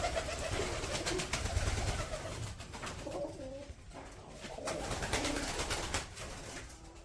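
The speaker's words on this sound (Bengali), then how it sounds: "মেলা কবুতর আছে।" Pigeons coo repeatedly at a village house in Rangpur, a flock of birds giving low, soft burbling calls over steady rustling background noise, fairly close.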